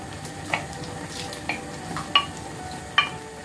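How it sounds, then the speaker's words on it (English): Prawns go into okra soup with wild salmon, and the pot gives a soft steady sizzle and simmer with four sharp stirring clinks spread across the short stretch. "I'm gonna add my prawns."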